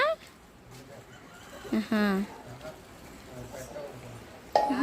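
Chickens cluck in short, scattered calls against faint background noise, with people talking nearby.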